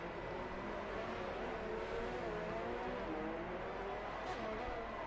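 Formula 2 race cars at the Azerbaijan Grand Prix, engines droning steadily as one overtakes another, a continuous loud blend of revving motors with faint commentary-like voice underneath.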